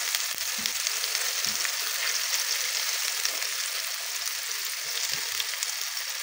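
Sardines sautéing in a frying pan, a steady bright sizzle with soft scrapes and clacks as the mix is stirred, close and continuous with no talk.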